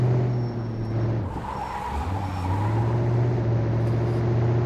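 A truck in Truck and Logistics Simulator on PlayStation 5 skids through handbrake turns, its loud, steady engine drone dipping briefly as tires scrub and squeal, then climbing back up, with no talking.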